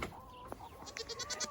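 A goat bleats in a farm pen on a cold snowy day, a faint, short wavering call with quieter farmyard sounds around it.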